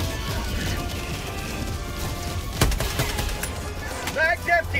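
Video game gunfire in a chaotic firefight, sharp shots cracking over a dense roar of game noise, one loud close report standing out midway while brief tonal game effects flicker near the end.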